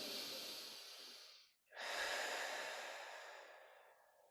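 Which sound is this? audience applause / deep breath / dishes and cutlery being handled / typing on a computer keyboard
deep breath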